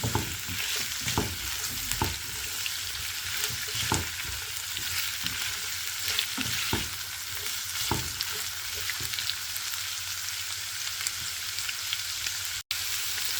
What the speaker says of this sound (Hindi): इसको 2-3 मिनट के लिए फ्राई करेंगे। हाई फ्लेम रखना है।